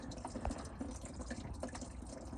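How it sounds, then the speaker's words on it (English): Coolant drips from the radiator drain of a Dodge Ram Cummins into a bucket below, faint, quiet irregular drips and soft trickles close by, with no talking. "it's still dripping down into that bucket"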